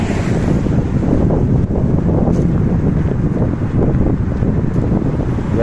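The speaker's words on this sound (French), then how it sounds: "Il y a du vent, il y a du vent." Wind pounds a phone microphone by the water with barges passing, a constant heavy rumbling buffet that holds steady from start to finish.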